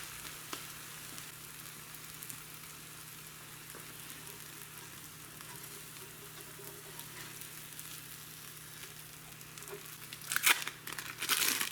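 A single egg frying in a pan for Korean street-style egg toast: a steady, soft crackling sizzle runs throughout, close but quiet, with a brief louder rustle and clatter near the end.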